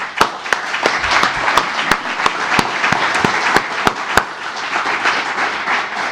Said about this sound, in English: we'll give them a great round of applause immediately